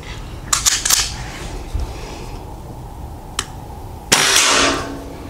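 Sharp shots from an Artemis CP2 CO2 air pistol firing 5.5 mm JSP Hades pellets, a few crisp cracks close by with quiet gaps between them and no talk.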